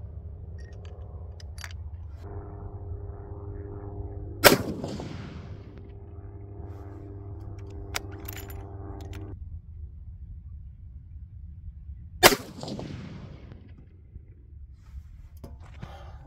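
Two loud, sharp rifle shots from a 257 Weatherby crack at an outdoor range about eight seconds apart, each followed by a short rumbling decay over a low steady background hum.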